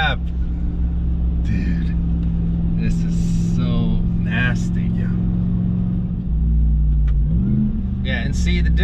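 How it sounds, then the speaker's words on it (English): Dodge Ram TRX Mammoth 900, a tuned 900-horsepower pickup, revs with a steady high whine over a loud, continuous engine rumble; people talk over it throughout. "Oh, listen to that whine."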